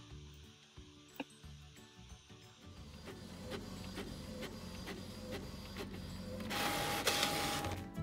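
A Cricut printer whirs and clicks through a job, its motor building into a steady mechanical churn with a brief louder burst near the end.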